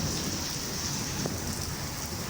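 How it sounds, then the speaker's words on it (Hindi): Heavy rain pours steadily outside an office in Karachi during a stormy downpour, a dense, even hiss with no voices. "ये हो रही है मेरे ऑफिस के बाहर बारिश"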